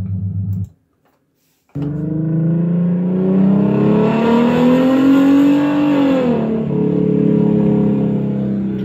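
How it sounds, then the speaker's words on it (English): A V6 car engine with aftermarket exhaust and cold air intake, no supercharger, revs up, climbing steadily in pitch and holding a loud, throaty exhaust roar before easing back down, after a brief silence at the start. "this is my V6 with no supercharger, just exhaust and cold air intake"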